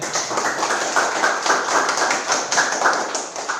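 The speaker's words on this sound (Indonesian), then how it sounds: "Tepuk tangan untuk kelompok 3" A classroom of students applauds a group in dense, steady clapping that stays even and close throughout.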